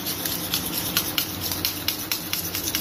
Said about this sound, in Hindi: इस तरह से हम सारी चीजों को अच्छी तरह से कर लेंगे मिक्स